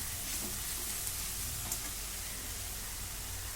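Dried fish (sukat) cooking on low gas, giving a steady, soft, even sizzle that continues unbroken throughout, close by and with no voices.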